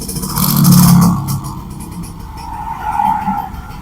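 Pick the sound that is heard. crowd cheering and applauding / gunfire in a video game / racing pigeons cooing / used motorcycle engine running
used motorcycle engine running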